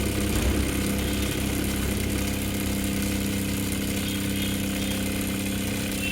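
A sewing machine running steadily while stitching a seam on cloth for a fabric bag, a continuous buzzing motor drone heard close and alone for several seconds.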